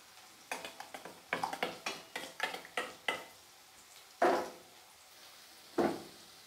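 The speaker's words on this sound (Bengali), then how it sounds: "আমি এটাকে এখন জল দিয়ে মিক্স করে নেব।" Ground ginger paste, cumin, chili and turmeric powders stirred with water in a bowl, a quick series of light clinking scrapes of spoon against the bowl, close and fairly quiet, ending with two louder knocks.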